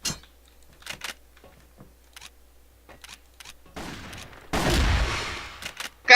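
Gunfire in the video game Crossfire, with scattered single shots early on and a dense burst of rapid fire near the end, loud and near.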